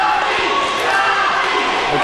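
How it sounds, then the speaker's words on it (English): A wrestling crowd cheering at an indie wrestling show, a steady loud wash of voices and shouts filling the arena without pause. "The crowd starts to make their cheers known."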